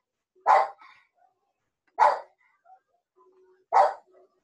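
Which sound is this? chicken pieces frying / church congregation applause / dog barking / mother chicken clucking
dog barking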